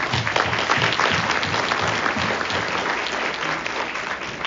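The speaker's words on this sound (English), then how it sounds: "How about a round of applause for our veterans?" Audience applauding veterans at a shareowners meeting, a dense, steady burst of clapping from a sizeable crowd that holds strongly for a few seconds and then starts to taper.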